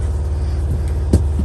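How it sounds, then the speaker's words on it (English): A water pump in a 2001 Autotrail Tracker camper runs with a steady low hum close by, with one brief click near the end. "That's the water pump."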